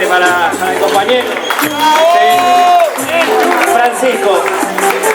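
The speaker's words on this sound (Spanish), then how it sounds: "Un aplauso más fuerte para el compañero" Crowd clapping and cheering for an improvising singer at a political cantata gathering, loud and close, mixed with shouting voices and someone speaking over the noise.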